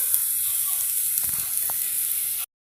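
Corned beef frying in a pan at a home holiday meal gives a soft, steady sizzle and hiss close by. It lasts a couple of seconds, then stops abruptly.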